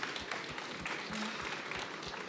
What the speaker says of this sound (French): on les invite sous les applaudissements